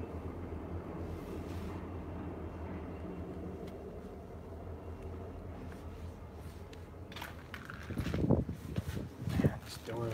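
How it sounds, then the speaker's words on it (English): A distant train rolls past near an abandoned steel works, a low continuous rumble under wind and footstep noise, with louder knocks and rattles toward the end. "I can hear a train right now."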